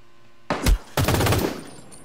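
Rifle fire in the video game Ring of Elysium: two loud, close bursts about half a second apart, each fading into a short echoing tail.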